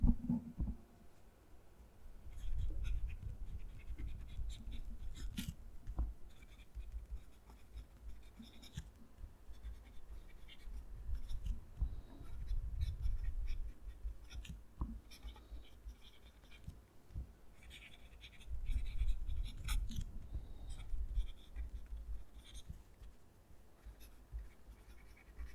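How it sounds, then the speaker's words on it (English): Fountain pen nib, a Lamy Safari or Faber-Castell Hexo, scratching across a page of paper with the mic held close. Soft, faint scratchy strokes come in bursts with short pauses between them, and no one speaks. "I'm going to move the mic down to the page so you can hear the pen write"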